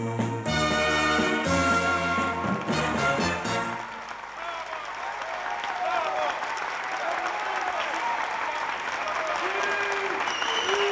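Theatre audience bursting into sustained applause after a musical passage ends, dense clapping with crowd noise filling the stage hall for several seconds, loud and steady.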